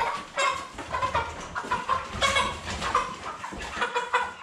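Cobb 500 broiler chickens, about forty days old, cluck and squawk steadily during weighing, a close run of busy repeated calls with no one speaking over them.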